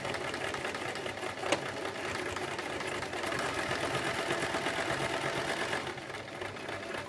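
Sewing machine stitching a circle skirt seam, a steady close mechanical whir with rapid needle chatter running continuously, with a brief shift in pitch near the end.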